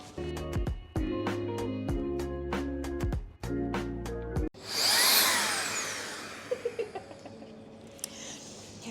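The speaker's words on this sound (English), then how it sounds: "So now, okay, I've got all the coffee. Come with me to the grinder." Coffee grinder running for a cupping session, a loud mechanical whirring grind that stops abruptly and gives way to a high rushing whoosh and a few quick taps.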